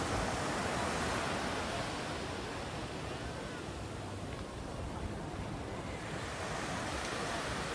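Ocean surf at a small beach in Sayulita, Mexico, a steady dense roar of breaking waves with some wind buffeting, continuous and loud with no talking.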